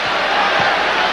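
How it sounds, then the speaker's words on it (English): A packed basketball arena crowd at the 1982 Sixers–Lakers NBA Finals game roars in a dense, steady wall of noise, loud and unbroken throughout. "Crowd at a fevered pitch right now"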